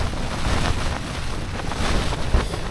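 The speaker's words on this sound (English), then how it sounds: "When these big gusts come through." Strong wind gusts buffet a tent in sub-zero winter wind and snow, a loud continuous roar with rumbling surges and flapping pressure against the microphone, with no talk.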